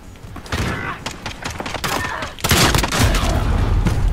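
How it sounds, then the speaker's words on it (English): Shotgun and pistol shots from a Modern Warfare three-versus-three gunfight mode come as scattered bangs and thumps, with a heavy boom partway through that stays loud to the end, all close. "Of course the shotgun beats the pistol in the gunfight."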